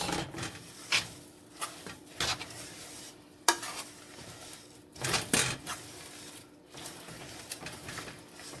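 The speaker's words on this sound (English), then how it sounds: "I am just going to give this another little quick stir." No-bake cookie mixture stirred in a pot, a series of soft scraping and clinking spoon strokes coming in irregular bursts against a quiet background.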